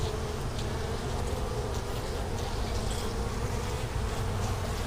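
Dense continuous drone of many honey bees buzzing around a hive frame loaded with brood, steady and close throughout with no talking.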